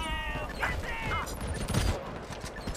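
Bursts of rapid gunfire in the mobile shooter Modern Combat Versus during an arena match, crackling volleys and impacts layered with game sounds, close and loud.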